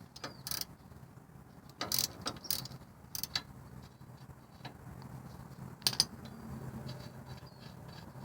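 A 13mm socket ratchet loosens a bolt on a 2008 Chevy Colorado wheel hub during a rotor and hub swap, with faint, intermittent bursts of metallic clicking set against quiet garage background.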